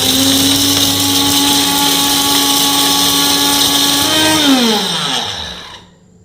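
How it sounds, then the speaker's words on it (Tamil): A mixer grinder grinds broken pieces of dry ginger into powder under its lid. It gives a loud, steady motor whine for about four seconds, then winds down and stops. "இதை மிக்சியில் அரைச்சிக்கிடுவோம்"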